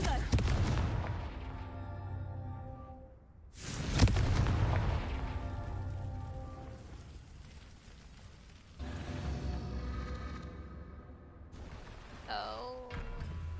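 Fire-spell explosions in Hogwarts Legacy, several deep booming blasts with crackling tails spread across the stretch, loud and heavy with rumbling decay, interspersed with game effects and a brief voice.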